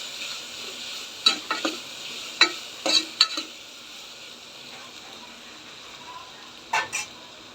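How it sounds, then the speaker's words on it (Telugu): Ginger garlic paste and turmeric are stirred in a pan for oats kichidi over a faint, steady sizzle. A spoon scrapes and clinks against the pan in several short bursts, close by, with no talk. "ఇందులో అల్లం వెల్లుల్లి పేస్ట్ యాడ్ చేద్దాం. కొద్దిగా పసుపు, ఒకసారి కలుపుకోవాలి."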